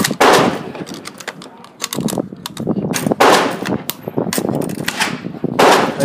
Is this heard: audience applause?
no